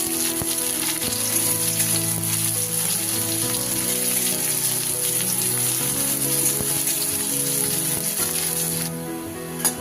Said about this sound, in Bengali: পেঁয়াজটা একটু ভেজে নিই, খুব লাল করব না, মোটামুটি ভাবে এটা একটু ভেজে নিই।